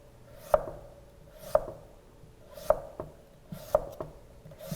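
A knife chops raw radish into thin strips for scale-style kimchi, five or six crisp, evenly spaced cuts landing on a board about once a second, close and clear against a quiet kitchen.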